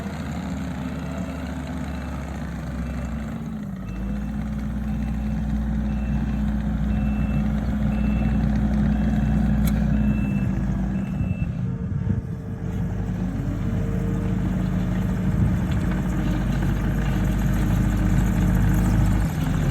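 A tractor with a loader bucket works over dirt and grass clumps during a lawn renovation, its engine droning and revving steadily up close, with intermittent beeping and no voices.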